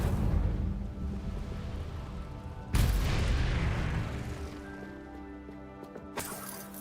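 A fire spell cast in the Hogwarts Legacy video game: a loud booming burst with a roaring, crackling flare that fades over several seconds, then a second sharper blast near the end, set over steady game music.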